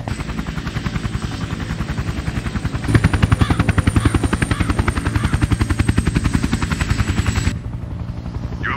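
Helicopter sitting on the ground in the shooter game Sniper: Ghost Warrior 2, its rotor chopping in a steady, rapid rhythm, loud and close, with no speech over it.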